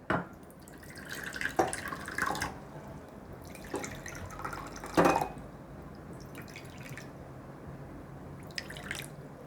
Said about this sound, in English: now let's pour water into this.